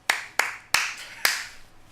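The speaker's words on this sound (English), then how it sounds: "May want to hold that applause" Four sharp, close handclaps ring out in an uneven rhythm, each a crisp smack with a short ringing tail, and no voices over them.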